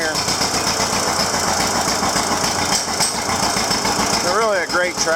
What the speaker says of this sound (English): It's really a great tractor.